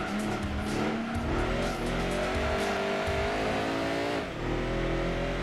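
Race cars in Gran Turismo 2 roar steadily through a Grand Valley 300 km race, the engines whining and shifting pitch, with tire squeal and skidding layered over a constant loud drone and no voices.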